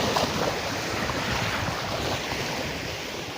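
Steady broadband rush of sea waves along the shore at a Philippine seaside, continuous and fairly loud with wind noise on the microphone and no voices.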